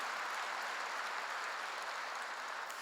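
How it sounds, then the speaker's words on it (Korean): A church congregation applauds during a sermon, with a steady, dense wash of clapping from many hands that holds at an even level throughout. "1년이면 운전면허 10번도 딴다니까 박수 좀 쳐요"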